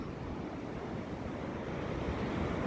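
Calm sea surf off Namae-ri beach in Yangyang on a morning, a steady, dense wash of waves with some wind noise, continuous and without talk.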